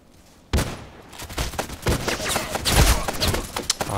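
Gunfire in the online shooter Contract Wars, with a sudden burst of rapid overlapping shots followed by continued bursts of automatic fire, loud and dense, with a voice talking underneath.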